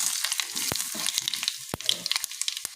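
Chili powder sizzles in a hot pan while being stirred for a dal, a steady bright frying hiss broken by sharp spoon clicks and scrapes, close and fairly loud, with no talk.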